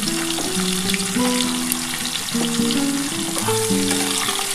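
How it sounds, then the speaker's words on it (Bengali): Beans and radish, along with dried red chillies, hiss and crackle as they go into hot fish oil for a spiceless pui-stem chachchari; a steady, close sizzle runs throughout with tuneful music playing underneath. "এবার শিম, মূলো সব একসাথে আমি দিয়ে দিচ্ছি।"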